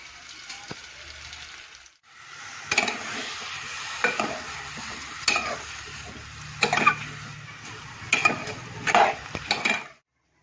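Ginger garlic paste roasting in a pan in a home kitchen, a soft sizzle broken by repeated scraping and stirring strokes of a metal spoon against the pan, close and intermittent.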